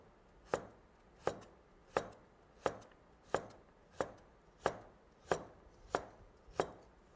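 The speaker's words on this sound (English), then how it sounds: "now we're going to just cut that again as wide as I made those long cuts" A large kitchen knife chops food into small pieces on a cutting board for chicken pot pie, about ten sharp, evenly spaced chops close up with no talking.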